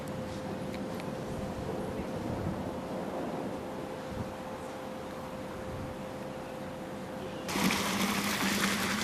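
Water streams down the side of outdoor terrace steps in a constant rushing gush, mixed with wind buffeting the microphone, growing louder near the end.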